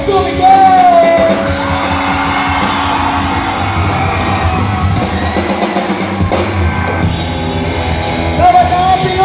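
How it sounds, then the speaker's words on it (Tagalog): A big crowd at a youth camp in Iba, Zambales yells and whoops together, loud and close, with a leader's amplified voice and music running underneath the sustained cheering. "Lahat ay sumigaw!"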